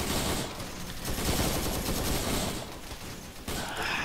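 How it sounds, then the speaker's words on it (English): Machine gun fire in the video game ARMA 3, a heavy .50-calibre weapon firing in dense, sustained bursts that fill the clip with rough, rattling noise, loud and continuous with brief dips. "I don't want to just shoot this 50 in random directions."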